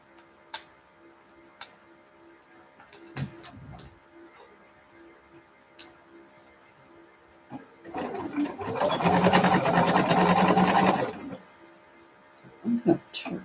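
Sewing machine running in a steady, dense whir for about three seconds while free-motion stitching a quilt, rising from quiet sparse ticks and clicks and ending with a few light taps afterward.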